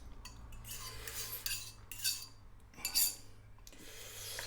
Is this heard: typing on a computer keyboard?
no